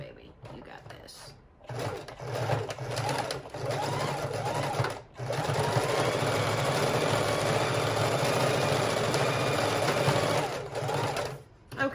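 A sewing machine stitches a fabric file-folder book cover near sewn-on beads, running in a steady, close whir with short stops, while a person talks over it.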